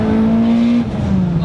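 An 825 hp Mitsubishi Evo engine revs loudly under gentle acceleration, a strong steady drone with a slight dip and recovery, close and dominant with no talk.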